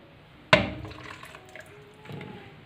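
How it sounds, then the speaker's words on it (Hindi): Water poured from a jug into frying masala for a mutton gravy: a sharp splash and sizzle that fade away, then a second, softer splash. "इसमें थोड़ा सा पानी हम डाल के जग में तो इसमें शामिल कर देते हैं।"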